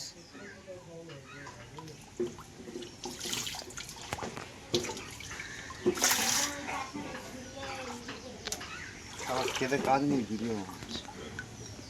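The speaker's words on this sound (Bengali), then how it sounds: "তুই কেন কলের জলটা বাড়াচ্ছিস" Water running from a tap, a steady splashing flow heard near and moderately loud, with people talking over it in Bengali throughout.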